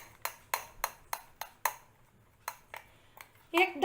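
A spoon stirs milk into jaggery kheer in a pot, giving a series of about a dozen sharp metallic clinks and scrapes at a steady rhythm, close and fairly loud, with no talking.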